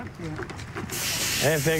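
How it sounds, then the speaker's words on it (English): A sprayer puts out Roundup herbicide in a steady, loud hiss that starts abruptly, while a person talks over the spraying and is partly masked by it. "Be careful not to spray it in my face."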